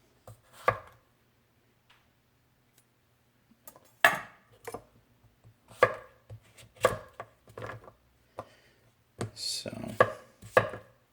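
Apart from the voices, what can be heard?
chef's knife (CJA Edged Art AEB-L gyuto) chopping squash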